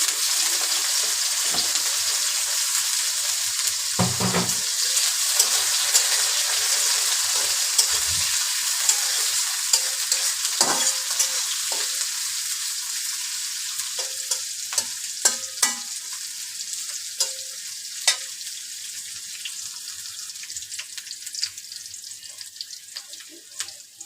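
Chopped onion, green chili and two bay leaves fry with shrimp in a pan of hot oil, giving a steady close sizzle that fades slightly over time, broken by a few stirring clicks and scrapes.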